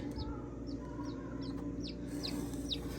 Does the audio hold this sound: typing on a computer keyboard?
no